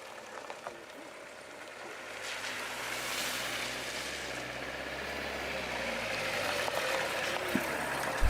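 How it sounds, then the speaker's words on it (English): A car approaches on a road in a war-torn area of Ukraine under shelling, its low engine rumble building steadily from faint to louder over a steady outdoor wash, with no clear talk. "Looks like a car."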